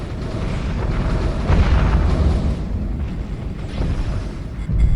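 Heavy explosions roar continuously as ships are destroyed in the space strategy game Homeworld 2, with a Stargate Goa'uld mod near a shipyard and carriers. The blasts are loud, layered rumbling booms that swell and linger across the clip.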